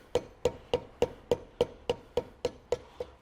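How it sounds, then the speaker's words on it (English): Hammer taps on the edge of an ABS pickup ring on a Ford Focus, eleven evenly spaced sharp metallic knocks about a third of a second apart, close and clear with no talk. "I'm just using the weight of the hammer on the edge here"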